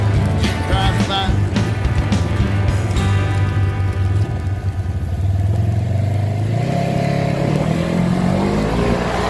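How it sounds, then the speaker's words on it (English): Big trucks driving by on a rural road, loud and close, with a heavy engine drone that rises in pitch as one accelerates past. "I like them trucks, drive by."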